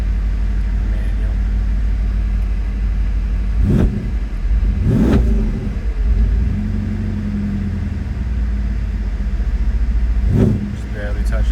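The engine of a 2017 Mercedes-Benz S63 idles with a low, steady rumble on a hot day, broken by three brief throttle blips that swell and fade.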